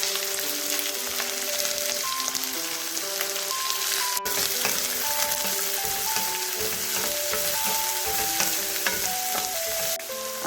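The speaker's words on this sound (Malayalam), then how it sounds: "കടുകൊക്കെ പൊട്ടി നമുക്ക് ഇതിലേക്ക് വറ്റൽമുളക് ചേർക്കാം. സവോള അങ്ങോട്ട് അരിഞ്ഞത് ചെറുതായിട്ട് അരിഞ്ഞത് നമുക്ക് ഇട്ട് കൊടുക്കാം." Mustard seeds, dried chili and chopped onion frying in oil in a pan, a steady close sizzle with crackles and stirring, no voices.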